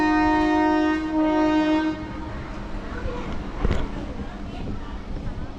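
A Dindigul MEMU express train starting from Udumalai railway station, its horn sounding loudly for about two seconds before fading into the rumble and clanks of the moving train, with talk mixed in.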